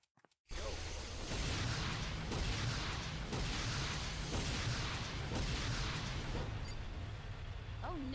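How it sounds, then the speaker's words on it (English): C4 detonation in a video game, starting with a sudden loud blast after brief silence and turning into a sustained roaring rumble of battle noise with repeated heavy impacts and whooshing debris for several seconds. "C4 is set. Fire in the hole."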